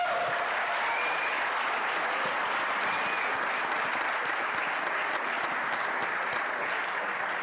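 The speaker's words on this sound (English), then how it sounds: "let's give them a big round of applause" A large audience at a Pro Football Hall of Fame and Cleveland Browns Black History Month program claps steadily and loudly, an even, sustained wash of applause with no pauses.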